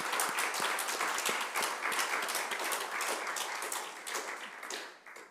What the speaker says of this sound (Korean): 우리 뜨겁게 감사의 박수 한번 하겠습니다